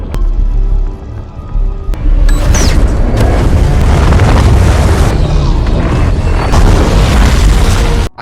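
A film explosion blows up an undersea hill: a sudden, very loud boom bursts in after a quieter stretch and rolls on as a heavy, sustained rumble before cutting off.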